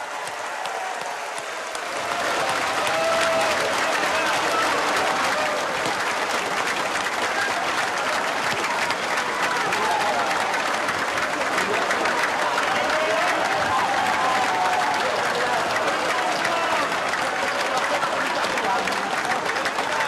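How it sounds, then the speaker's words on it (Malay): Thunderous applause for UMNO women at a party general assembly, rising after a quieter opening into a dense, sustained clapping that fills the hall and carries on at full strength. "Kita beri tepukan gemuruh pada wanita UMNO."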